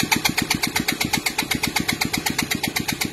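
Modified 4-valve GY6 scooter engine at full throttle on a test, a loud close rapid pulsing firing rhythm held throughout with no talking.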